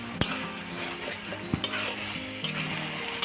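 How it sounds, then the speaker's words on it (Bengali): A spoon scrapes and clinks against a pan as ash gourd curry is stirred over a soft sizzle, with a few sharp knocks standing out from the steady frying hiss. "তো আরও একটু কিছুক্ষণ আমি নেড়ে নিচ্ছি এটাকে।"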